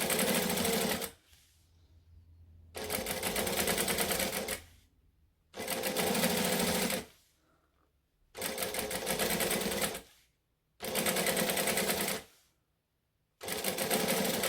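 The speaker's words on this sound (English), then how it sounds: "I'm just stitching slowly because I want it to line up." Sewing machine stitching fabric slowly for a quilting tutorial, running in about six steady bursts of a couple of seconds each, separated by short quiet pauses, close and clear with no talk.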